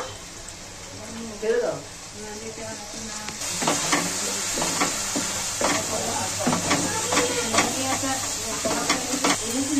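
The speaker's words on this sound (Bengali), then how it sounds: "এবার ভালো করে কষিয়ে নেব।" A spice paste of ground rice seeds, cashews and sour yogurt is stir-fried in a pan for a vegetarian taro curry. The steady sizzle carries repeated scraping strokes, with brief talk early on.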